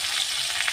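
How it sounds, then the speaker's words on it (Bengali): A piece of rohu fish fries in hot oil and gets turned over, making a brief, even hissing sizzle close up with no voices. "আর এক পিস ভাজতে দিয়েছি, উল্টে দিলাম।"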